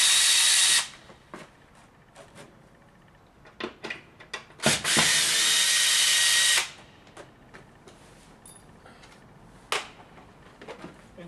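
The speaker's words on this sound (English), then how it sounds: "Let me unscrew that and show you what that looks like. See, I just have it in with 2 drywall screws." A power drill whirs loudly in two long bursts, backing drywall screws out of a wall panel frame, with small clicks and handling knocks in between and no talk.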